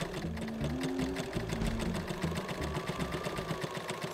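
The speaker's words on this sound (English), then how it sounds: "and then I sew a bit, and then I fold a bit more, and then I sew a bit" A sewing machine stitches a folded quarter-inch fabric hem on a wrap skirt, its rapid, even mechanical chatter running steadily and close by with no voice over it.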